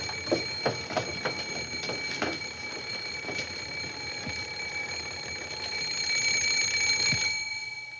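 An old film comedy scene has an alarm-clock bell ringing insistently in short repeated bursts with steady tones, mid-distance and fairly loud, with no talking over it.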